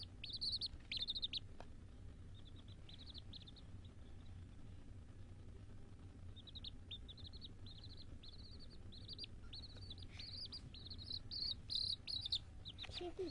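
A week-old chick with feathered feet chirps in high, thin bursts, a cluster at the start and a longer run later, over steady low background noise and insect-like chatter.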